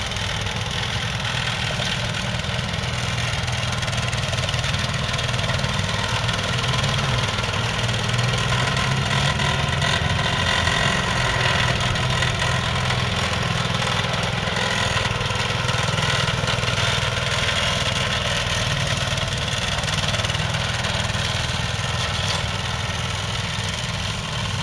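A hybrid slope mower cuts through thick grass, its engine holding a loud, steady drone without bogging down for the whole stretch, with no voices over it.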